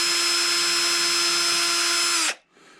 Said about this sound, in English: we're going to take a tiny little drill bit, and we are going to pre-drill our holes